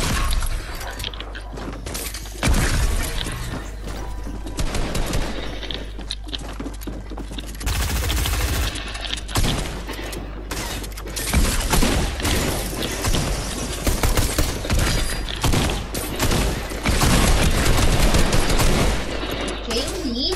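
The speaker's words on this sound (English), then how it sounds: "Charging the shotgun up." Rapid, loud gunfire fills a Fortnite arena trios match, with repeated blasts and bursts including shotgun shots, densely layered and continuous with game effects and mechanical clicks throughout.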